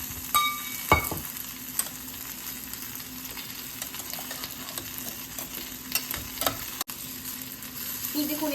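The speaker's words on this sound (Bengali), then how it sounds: "সঙ্গে এই মশলা জলটাও দিয়ে দেব মশলা জল বলতে যেটা আমি ম্যারিনেট করে রেখেছিলাম ওই বোলটাকে ধুয়ে আমি দিয়ে দিচ্ছি" Marinade spice water poured into a sizzling pan of oil-free chicken curry, a brief splash followed by steady frying hiss with occasional stirring clinks.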